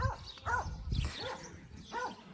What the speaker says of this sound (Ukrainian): Чого ти гавкаєш?